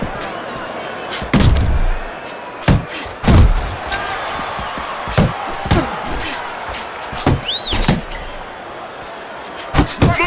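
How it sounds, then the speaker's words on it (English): Heavy punches landing in the boxing game Fight Night Champion, a series of loud, dull thuds spaced unevenly across the clip, some in quick pairs, over a steady arena crowd murmur. "Kid Dynamite's feeling the impact of a big counterpunch"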